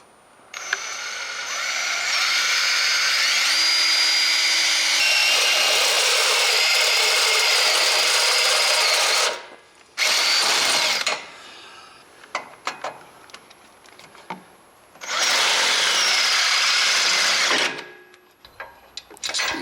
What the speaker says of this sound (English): Use a smaller drill bit or unibit to create a pilot hole, and then follow it up with a 3/8-inch drill bit.